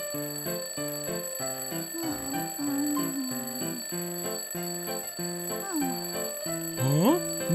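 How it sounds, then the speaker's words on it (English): A repeating electronic alarm melody beeps in a steady rhythmic pattern, loud and close, with some pitch-bending tones near the end. "your alarm is beeping"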